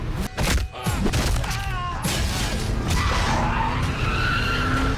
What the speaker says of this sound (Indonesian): Mobil itu masuk ke hutan dan menabrak pohon.